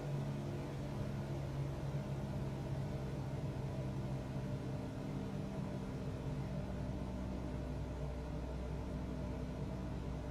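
An aircraft engine in a flight video game, throttled down to about 1900 RPM, gives a low, even, steady hum at moderate volume with no voices.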